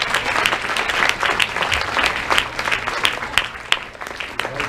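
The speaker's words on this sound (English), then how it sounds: "Can we give them a big round of applause?" An audience at a children's spring musical bursts into sustained, dense applause, many hands clapping loudly and evenly throughout.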